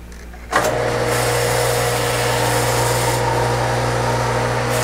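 A metal milling machine running an extended end mill, drilling and walking back and forth while boring an odd-shaped hole; a sudden steady mechanical hum and whine with a continuous grinding cut, loud and close, no speech.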